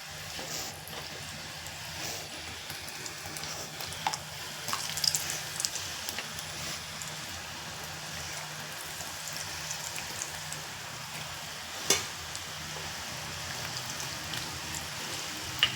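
Masala-coated peanuts dropped by hand into hot oil, giving a steady close-up sizzle and crackle with a few sharper pops, no voices.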